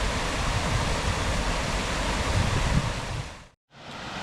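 Ure Force, a small waterfall on a river, roars as a steady, dense rush of falling water close to the microphone, broken by a brief dropout near the end.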